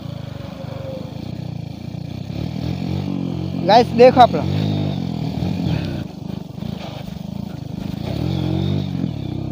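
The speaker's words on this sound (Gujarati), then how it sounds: "ગાઈસ તો આપણે આ બાઇક પર સ્ટન કરી જોઈએ છે" A motorcycle being ridden for stunts gives a low, steady engine drone with a brief sharper burst midway, running beneath a man's chatter.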